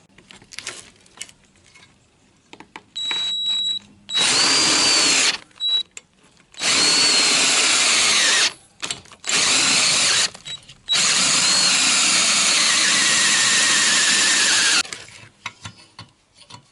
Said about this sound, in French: Maintenant, je vais percer plus gros.